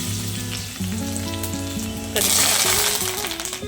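Garlic sizzles and crackles in hot oil with mustard and cumin seeds, a dal tempering, with steady loud frying that surges brighter partway through, no voices.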